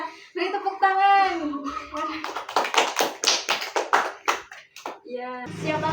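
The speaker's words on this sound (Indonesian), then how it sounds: "ya, beri tepuk tangan." Children in a classroom clap their hands together in a quick burst of rapid slaps after a teacher's prompt, with a teacher and kids talking before and after the applause.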